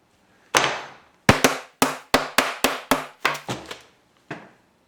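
About ten sharp hammer blows strike a big piece of chalk in a bag close by, some in quick pairs, each a crisp crack that fades fast.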